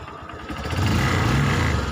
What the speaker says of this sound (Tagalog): Hayaan nyo lang uminit yung makina hanggang mag-circulate yung bagong langis niya